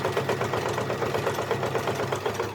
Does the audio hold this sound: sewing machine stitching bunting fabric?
yes